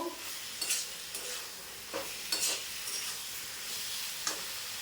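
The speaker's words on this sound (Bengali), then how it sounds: "এবার এই যে ভেজে রাখা আলু আর এঁচোড় একসঙ্গে দিয়ে দেবো, দিয়ে 2 মিনিট কষবো" Pre-fried potato and jackfruit stir-fried in oil in a pan, giving a steady hiss of sizzling with repeated spatula scrapes and stirs throughout.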